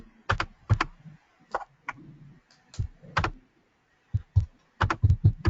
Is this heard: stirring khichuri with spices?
no